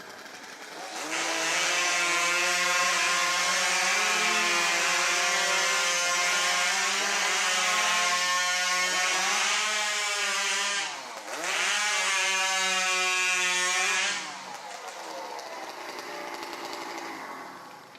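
Chainsaw at a STIHL Timbersports competition ripping through timber cookies, a loud close high revving whine with strong engine harmonics, briefly dipping as one cut ends before the next begins, then trailing off to idle.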